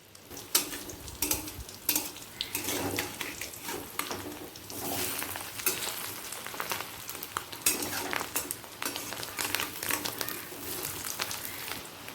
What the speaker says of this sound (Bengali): উল্টে দিলাম মাছের ডিমের বড়া ভাজা